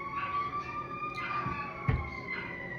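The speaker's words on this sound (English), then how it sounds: "That was that damn ambulance, dude." An ambulance siren wails faintly in the distance, a steady high tone drifting through low background rumble.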